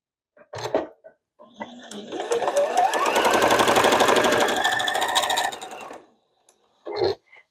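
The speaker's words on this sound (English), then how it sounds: "Now I just sewed off it a little bit just so I could swing around and get this other side." Home sewing machine stitching a quilt block at a steady, continuous whir for about four seconds, beginning with a rising motor hum, close and loud, with short handling sounds before and after.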